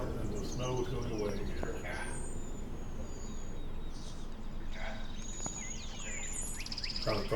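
Faint birds chirp and whistle in scattered short calls outdoors on a thawing spring day with melting snow, set against a steady wash of background noise.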